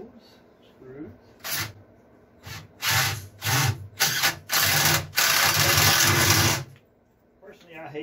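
A power drill drives pocket-hole screws into the wood of a giant wishing well planter, with several short bursts of loud whirring that build into one long sustained run, all close by, with speech at the start and end.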